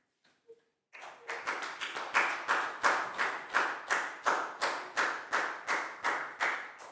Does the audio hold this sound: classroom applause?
yes